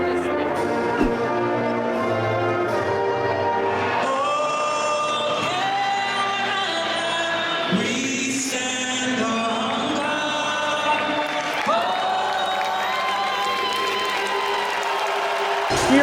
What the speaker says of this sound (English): Senators just came out to one of the most underwhelming roars I've ever heard.